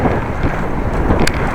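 Wind rushes past the microphone while riding a Dutch bike, a steady broadband roar filling the short stretch without any talk.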